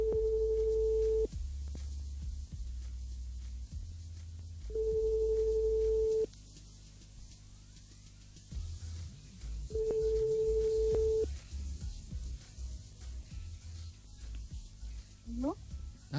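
A telephone ringback tone during a prank phone call on a radio show, sounding as three evenly spaced tone bursts over background music, then a brief rising chirp near the end.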